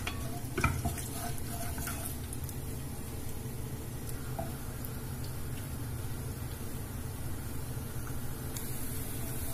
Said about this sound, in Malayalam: കാഷ്യൂ ഒന്ന് ജസ്റ്റ് ഒന്ന് അതിന്റെ മൂപ്പിക്കാം, ഒരു ബ്രൗൺ കളർ ആകുന്നവരെ മൂപ്പിക്കാം.